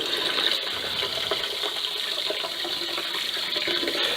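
A tap runs steadily with a continuous hissing stream of water into a sink. The water is being used for homemade soap making, and the sound is close and even with no talking.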